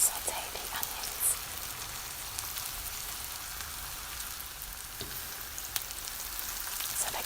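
Onions sautéing in a pan, a steady soft sizzle with fine crackling that runs evenly the whole time, close and fairly quiet, with no talking.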